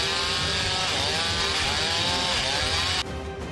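A chainsaw cuts into a tree, its high, steady whine holding loud and close for about three seconds before the pitch and level drop abruptly as the cut ends.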